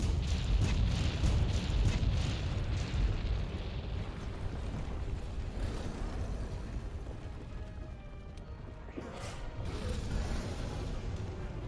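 Loud, continuous rumbling booms and mechanical clatter fill the scene in Monster Hunter World, with heavy ship-cannon blasts blending into a dense game soundscape; no talking.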